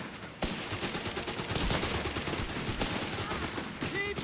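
Dense machine gun fire rattles through a Company of Heroes 3 battle in fast, continuous bursts, loud and sustained across the moment, with faint game effects underneath.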